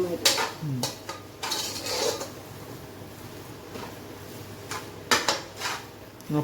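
Metal spoon scraping and knocking against a pot while Kerala-style chicken curry is stirred, with clustered clanks and scrapes in short bursts and quieter stretches of low kitchen hiss between them, close and fairly soft.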